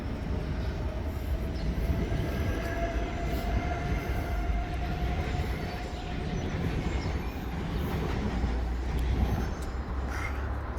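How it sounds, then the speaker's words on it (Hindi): A train pulls out of a small railway station, a loud, continuous rumble of wheels and carriages rolling past close by with faint high squeals, holding steady throughout. "तो ट्रेन चली गई है अपने जहाँ उसका डेस्टिनेशन है।"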